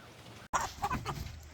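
Chickens cluck softly and briefly nearby in a coop, a few short calls over faint background noise.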